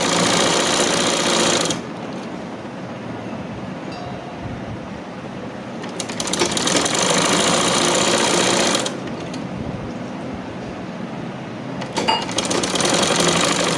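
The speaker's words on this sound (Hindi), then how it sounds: "आधे इंच के फासले पर हमें सिलाई करनी है।" Sewing machine running in three loud, sustained bursts of dense mechanical whirring while stitching a shalwar seam about half an inch from the edge, with quieter pauses between bursts and no talking.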